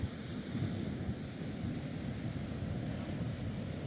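Waves surge and break on Tunstall beach on a cold day, a steady broad wash of surf blended with gusting wind buffeting the microphone, continuous and fairly loud with no voices.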